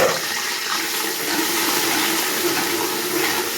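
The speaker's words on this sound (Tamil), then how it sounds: "அந்த அரைச்ச வெங்காயத்தை இதில் போட்டுடலாம்." Ground onion paste hits hot oil with cinnamon and cardamom for biryani, making a loud, continuous close-up sizzle and hiss that stays steady throughout without any talk.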